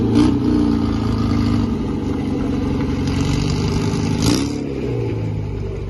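A classic Mercedes 230 pulls away at an outdoor car and bike meet, its mid-pitched engine revving steadily and close by, with a brief louder surge near the end and no talk over it.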